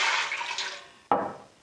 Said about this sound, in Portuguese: Eu vou botar água.